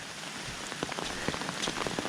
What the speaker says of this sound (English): little bits of hail mixed in with this.